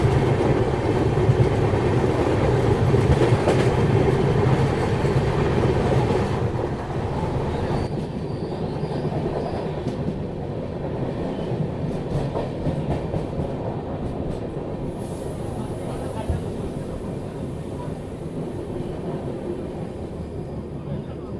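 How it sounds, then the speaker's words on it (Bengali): Rupasi Bangla Express running on rails between Tata and Medinipur, a steady loud rumble of the moving train heard from inside a carriage, continuous throughout, easing slightly in level partway through. "আমাদের ট্রেন এখন এসে পৌঁছেছে আমাদের সেকেন্ড হল্ট মেদিনীপুরে"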